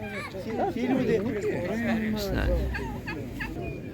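Young turkeys of this year gobbling and chattering at a busy animal market in Ivano-Frankivsk, a dense flurry of warbling calls close by over crowd babble and talk.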